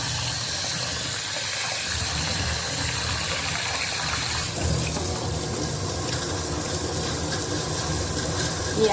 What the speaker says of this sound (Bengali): চালটা ধুয়ে দিই।